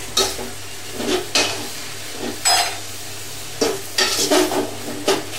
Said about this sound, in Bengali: এখন এর মধ্যে আমি এই বাগারের জন্য যে পেঁয়াজগুলো ভেজে রাখছিলাম ওগুলো দিয়ে দেবো, দিয়ে একটু নেড়ে চেড়ে দিব